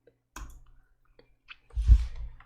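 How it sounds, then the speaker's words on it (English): Mouse clicks on a computer while using WorldPainter, a few short, sharp taps spaced apart in a quiet room, the last followed by a soft low thump. "I'm going to click on Create"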